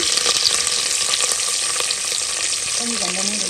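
Onion frying in hot oil with tempering for a clam dish, a loud close steady sizzle with occasional spatters and a brief stirring scrape near the end, no one speaking.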